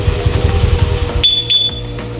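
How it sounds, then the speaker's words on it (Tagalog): A two-way alarm fitted to a Honda Navi scooter gives two short, shrill electronic beeps in quick succession after a stretch of rumbling engine noise. "Pinalagyan sa akin ni sir ng two-way alarm."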